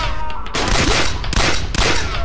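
Rapid gunfire in the military shooter Sierra 7, loud and close, with shots rattling off in quick bursts and brief gaps throughout.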